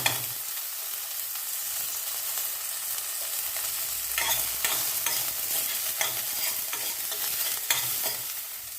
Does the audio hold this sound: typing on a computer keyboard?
no